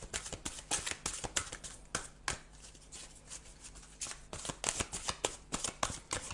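A deck of tarot cards being shuffled by hand in a quiet room, a long run of crisp riffling bursts and soft papery slides, with a short lull in the middle before the shuffling picks back up.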